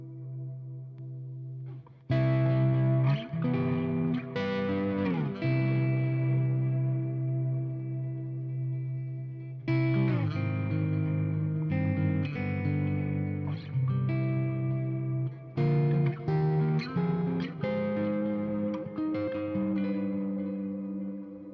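Electric guitar played through a reverb and delay effects pedal on an ambient setting, with sustained chords washing into long, shimmering echo tails; loud and continuous, with fresh strums at intervals and no talking.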